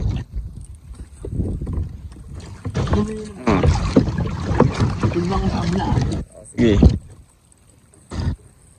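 Water laps and sloshes around a small bangka boat out crab fishing, while people talk briefly nearby, with a few louder splashes near the end.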